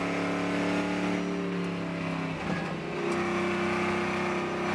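Trans Am Ford Mustang race car heard from onboard at Thunderhill, its engine droning loudly and steadily with a brief dip in pitch as it shifts, then pulling back up.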